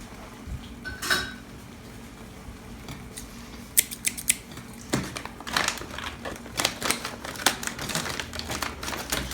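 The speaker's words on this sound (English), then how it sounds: "Got some Bushcraft scissors here, really nice." Bushcraft scissors snipping open a Mountain House beef stroganoff pouch, a series of sharp crisp cuts that build into a quick run of clicky snips toward the end, close and fairly loud.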